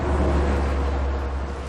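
A bus passing some distance away, picked up by a directional microphone aimed across an outdoor scene: a steady, broad low rumble with wind-like hiss, fairly loud and continuous, with no voices.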